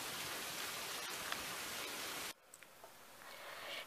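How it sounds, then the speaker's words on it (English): Heavy rain in the racing game Forza Horizon 3, a dense hiss of downpour that cuts off abruptly partway through, leaving a much quieter ambience with a few faint ticks. "we just got destroyed by all this rain"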